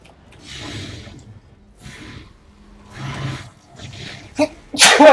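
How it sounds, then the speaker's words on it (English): A single sharp sneeze bursts out loud and close near the end, following several seconds of breathy, snorting inhalations as it builds up. "I've got a sneeze coming."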